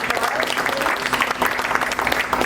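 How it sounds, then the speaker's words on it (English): An audience at the close of a seminar on living, dying and leaving a legacy gives a round of applause, dense steady clapping with faint voices mixed in. "Another round of applause."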